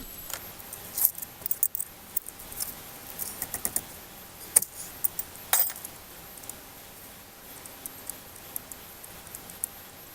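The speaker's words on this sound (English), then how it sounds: "go ahead and loosen up the slide pin right there" A 14mm wrench works a brake caliper slide pin on a 2000 Saturn S-series, giving scattered faint metallic clicks and taps over a quiet background, with no talking.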